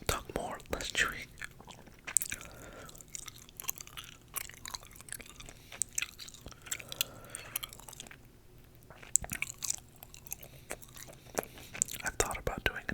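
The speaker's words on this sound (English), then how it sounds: "I feel like I'm doing a lot more chewing than rambling" Gum chewed close to the microphone with continuous wet, squishy smacks and small clicks in an irregular rhythm, along with faint whispered talk.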